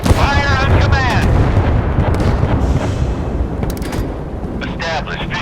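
Warship artillery fire in the naval video game Force of Warships, heavy booming blasts rolling into a dense continuous rumble, loud and close, with game voice callouts heard over it.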